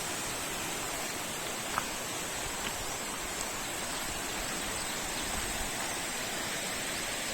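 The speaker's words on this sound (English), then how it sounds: "The river is quite swift and deep." A swift, deep river in the Borneo jungle rushes in a steady, unbroken wash of water noise, continuous and fairly close, with no voices.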